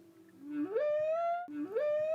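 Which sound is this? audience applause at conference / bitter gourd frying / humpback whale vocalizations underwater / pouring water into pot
humpback whale vocalizations underwater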